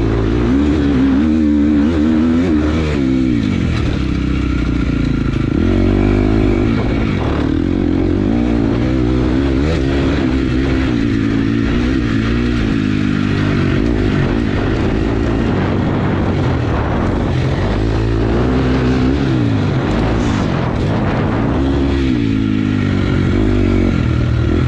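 A motocross bike ridden through a turn during a private riding lesson, its engine droning and revving steadily for the whole stretch, loud and close with no voices.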